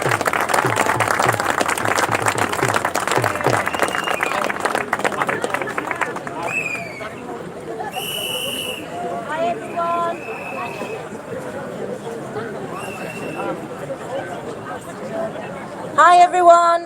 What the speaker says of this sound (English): Really good to see a big crowd out here in the rain, not put off.